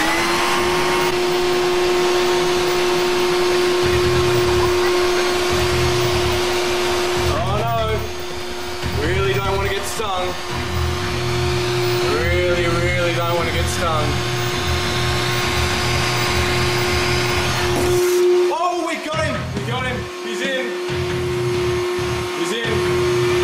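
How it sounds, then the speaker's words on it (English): A vacuum cleaner runs steadily while sucking up a European wasp, with a loud, constant droning whine under a person talking at intervals. "I've just been getting ready to vacuum the floor, so we're going to see if we can suck up this dangerous insect"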